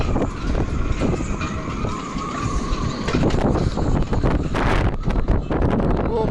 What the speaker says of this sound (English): Let's get out of the wind.